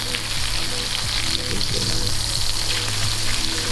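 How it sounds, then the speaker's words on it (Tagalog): Burgers frying in a pan give a loud, steady sizzle that fills the whole stretch without a break, close and dense, with faint crackles riding on top. "flip mo na yung mga burgers mo"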